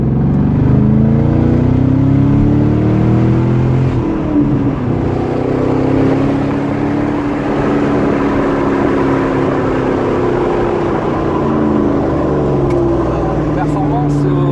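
A Corvette C6 sports car accelerates hard, its engine note rising and falling in sweeping pitch changes, loud and close, sustained through the whole stretch.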